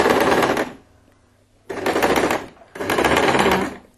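A sewing machine stitches fabric for a travel purse organizer in three loud, close bursts of fast mechanical whirring. The bursts are separated by short pauses and no one talks.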